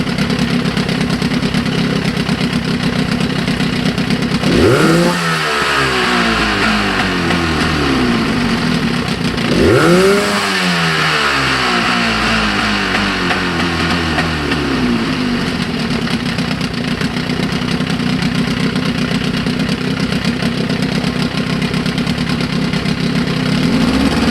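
A 1998 Force 50 HP outboard motor with a freshly rebuilt carburetor idles steadily and loudly, with two sharp revs around five and ten seconds before dropping back to a rough, continuous idle.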